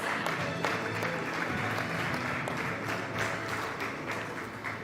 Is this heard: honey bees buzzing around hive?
no